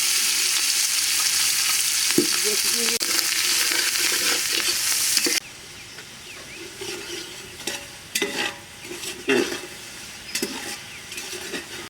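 Native shrimp with onion, garlic paste, salt, turmeric and chili hisses in a hot pan. A loud, close sizzle drops sharply to a quieter simmer, broken by irregular stirring scrapes and clatter, with no talking.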